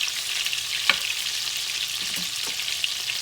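Flour-dredged ground beef pieces frying in a pan, a steady close sizzle with scattered sharp pops and crackles, no talking.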